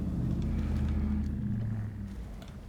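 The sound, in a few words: truck passing on road outside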